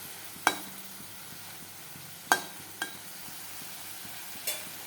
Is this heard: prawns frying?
yes